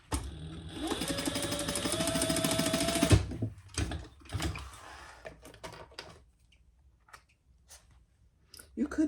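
A sewing machine stitches a bag, running in a steady continuous whir for about three seconds before stopping. Scattered handling clicks and rustles follow, with some talk over them.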